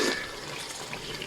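Water is poured from a glass into rice for potato pulao, a short, close, steady rushing splash of liquid with no voices.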